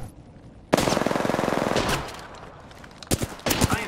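Automatic gunfire in the Apex Legends battle royale game, a rapid close burst of rattling shots that fades, then a few more sharp bursts near the end, with no talk.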